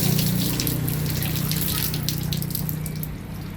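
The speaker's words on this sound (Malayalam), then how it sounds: "നോസിലാണ് ഈ ജെറ്റ് ഉണ്ടാക്കുന്നത്." Water jets steadily from the nozzle of a Kurian's Easy Car Washer, a continuous close hiss and gush over a low pump-like hum that eases slightly toward the end.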